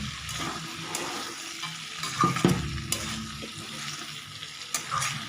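Tomatoes going into a pan of frying potatoes for an aloo katli dish: a steady sizzle with clinks and scraping stirs, rising into a louder hiss midway, no talking.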